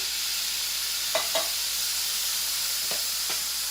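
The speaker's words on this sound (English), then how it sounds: "You hear the sizzling?" Soft, steady sizzling of rice and tomatoes frying in a pan for seafood paella, with a few light stirring scrapes; quiet and close, no talking.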